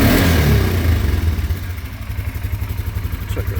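A 2025 Polaris Sportsman 450 HO ATV engine revs up close, a loud rev that falls back into a throbbing, pulsing idle with a little mechanical clatter.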